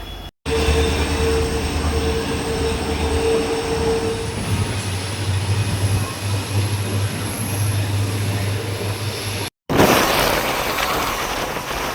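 A passenger train on the Karaikudi–Mayiladuthurai line runs with a continuous loud rumble and rattle heard from inside, with steady low drones throughout and a brief cut near the end.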